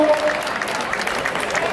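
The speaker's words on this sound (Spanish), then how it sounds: "Ese aplauso para los amigos y vecinos del lomo el marco" Crowd applause at a floral pilgrimage (romería) in San Bartolomé de Fontanales, Moya, a steady wash of clapping from many hands at moderate distance, with faint voices mixed in.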